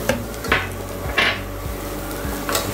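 Carrot, beans and cabbage stir-fried in a pan, with a spatula scraping and clanking against the metal in a few separate strokes over a steady low sizzle, close and alone with no talk.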